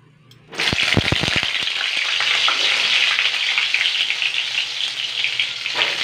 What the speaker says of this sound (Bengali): আলুটা চটচট করে ভেজে নিই